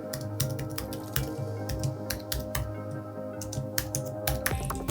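A computer keyboard clatters with quick, uneven keystrokes, close and steady, with no voices over it.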